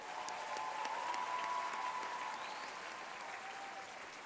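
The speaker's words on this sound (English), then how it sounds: "Let's give them a round of applause one more time." An audience at a high school graduation ceremony applauds in a sustained, even wash of clapping that fades slightly toward the end, heard at some distance in a large hall.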